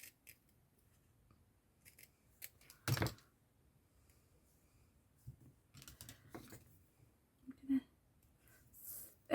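Scissors snip through paper ephemera in a handful of separate cuts, close and fairly quiet, with pauses between the snips and no talking.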